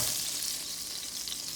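Butter sizzles in a frying pan before eggs go in, a close, steady hiss with a soft crackle and no voices.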